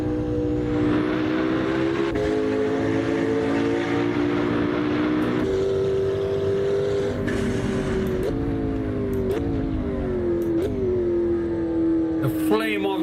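Car in Assetto Corsa racing gameplay, engine droning and rising with gear changes and exhaust note, steady loud tone with occasional shifts, a voice talking over it.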